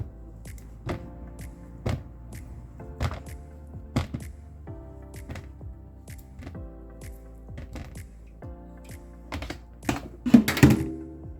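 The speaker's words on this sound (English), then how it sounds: "I'm going to cut it into my bowl, into smaller pieces" A knife cuts papaya into smaller pieces in a bowl, giving sharp, separate thunks every second or so, close and clear, with a quick cluster of knocks near the end.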